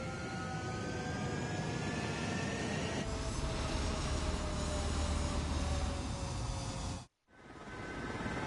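Fighter jets roaring down the runway on takeoff in Ace Combat 7, a loud sustained engine roar with whining tones, rising in intensity before cutting out abruptly near the end, then swelling back in.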